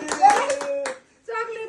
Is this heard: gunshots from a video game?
no